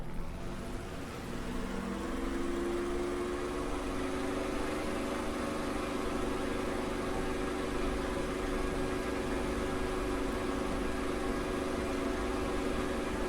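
Simulated P-51D Mustang piston engine in the DCS flight game, droning steadily and loud throughout, with rising harmonic tones early on as the throttle is pushed forward and revs climb.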